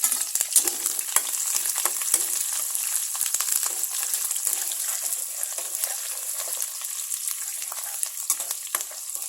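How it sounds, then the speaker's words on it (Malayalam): Garlic, green chillies and curry leaves sizzle steadily in hot oil for a pepper pickle, a continuous close crackling fry with occasional stirring scrapes and no voices. "ഇതിലേക്ക് നമുക്ക് ഈ വെളുത്തുള്ളി പച്ചമുളക് കറിവേപ്പില ഇത് മൂന്നും ഇട്ട് നമുക്കൊന്ന് ഒന്ന് വഴറ്റിയെടുക്കാം"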